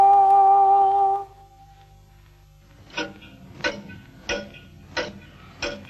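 An electronic tone holds briefly and fades, and after a quiet gap come sharp, evenly spaced tick-like electronic beats, about one every two-thirds of a second, in music scored to mimic a ticking clock for a 1979 documentary.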